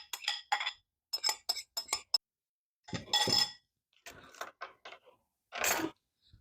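Oats and milk being stirred into muffin batter in a bowl, heard as a quiet series of separate clinks and taps of utensil against the bowl in irregular clusters, close and alone.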